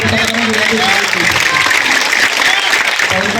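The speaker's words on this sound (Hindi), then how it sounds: "जोरदार तालियों से इनको" A crowd applauds steadily at an Urdu poetry recital, dense clapping filling the whole stretch at close range, with a voice faintly carrying through it.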